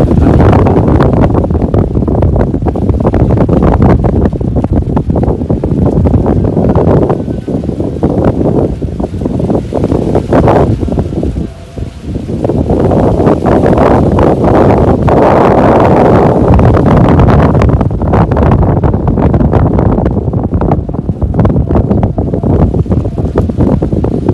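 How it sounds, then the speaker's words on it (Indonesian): Strong wind buffets the microphone outdoors beside rice paddies at the Batujaya temple site, a loud continuous roar that surges and briefly dips midway. "Tuh lihat tuh angin"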